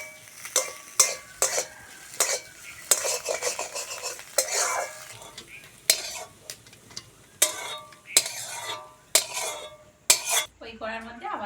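Fried eggs scraped and lifted out of a hot wok: repeated sharp metal spatula clinks and scrapes against the pan over a low sizzle of oil, close and irregular, ending in a few ringing knocks.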